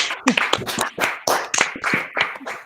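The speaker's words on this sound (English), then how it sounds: "Please unmute yourself and clap for yourself." Participants on a video call clapping after being asked to unmute, a burst of uneven, overlapping claps compressed through the call audio, with irregular strikes for under three seconds.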